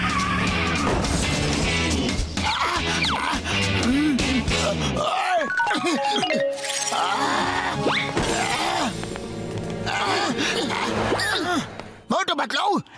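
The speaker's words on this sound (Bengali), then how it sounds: "গাড়ির ব্রেক ফেল হয়ে গেছে" A cartoon car with failed brakes careens along, with loud skidding squeals and engine noise mixed with frequent excited talk over the commotion.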